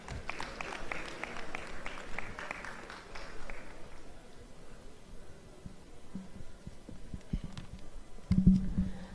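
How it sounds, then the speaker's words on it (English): A crowd applauds with brisk clapping for a few seconds at a cultural night and pageant, then the clapping thins out and fades, leaving low rumbling room noise. "A round of applause for Pastor Ubong Asean, please."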